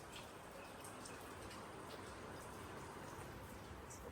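Steady rain keeps falling on a rooftop, a continuous soft hiss with scattered droplet taps that holds at an even, fairly quiet level throughout.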